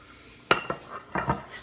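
Metal muffin pans clatter and clink while being handled as they are filled with pie crust for individual apple pies, a few sharp knocks spaced apart, close by with no talking.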